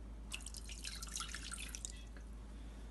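Water drips and splashes into a pot on a stove set to medium low, with butter and sugar already in; a run of quick, bright, close droplets plays over a steady low hum, then thins out.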